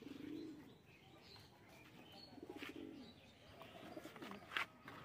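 Pigeons kept for sale coo in low, soft, repeated bursts, with occasional chirps and faint wing flutters in a quiet outdoor setting.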